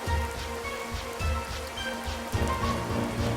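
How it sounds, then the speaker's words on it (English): Steady rain in a stormy scene from an animated railway story, a continuous moderate hiss of falling drops with a soft tonal layer beneath. "The rain is going to stop."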